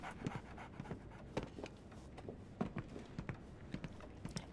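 In the video game Sherlock Holmes: The Awakened, a dog pants in quick, rhythmic breaths, fairly close and quiet, with faint soft thuds like paws or hooves in the background.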